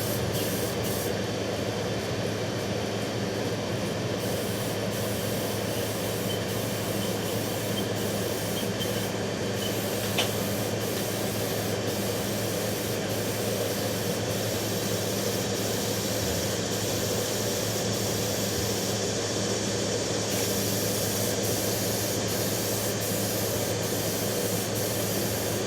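Aerosol spray paint hisses in a long, steady, unbroken stream while bobber motorcycle parts are coated, sides first and then the top, loud and close with no talking.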